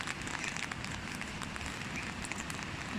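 Heavy rain runoff in Oman pours down like a waterfall, a loud, steady broadband rush of falling water that stays constant and close throughout, with no voices.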